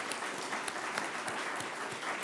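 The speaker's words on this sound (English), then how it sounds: "Let's give these candidates a big round of applause." An audience at a Denver candidate forum applauds with steady, dense clapping throughout, close and fairly loud, with no voices over it.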